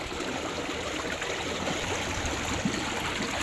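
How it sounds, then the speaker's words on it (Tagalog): A strong stream swollen by rain flows steadily, a dense, even rush of water with a faint trickle and gurgle, continuous and close, with no voices. "malakas na po yung agos ng tubig at dito po ay umulan"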